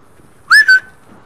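A character in GTA 5 whistles to call a dog, giving two short, loud, shrill blasts in quick succession against a quiet background.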